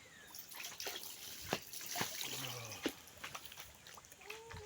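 Water splashes and drips as someone bathes from a washbasin during hot weather in the Philippines, with irregular close splashes and pours and brief voices in the background.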